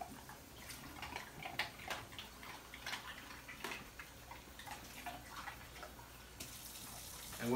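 Faint water splashing and trickling into dog bowls, with small clinks and taps scattered throughout at low volume.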